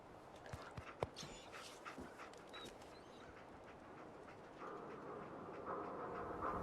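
A dog in Fallout 4 pants softly in quick, rhythmic breaths with a few faint whimpers, quiet against a low ambient background.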